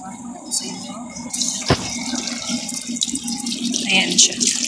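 A tap in a home where cats are kept is turned on, and water runs and splashes steadily into a basin. It starts with a sharp knock, and voices talk over the running water.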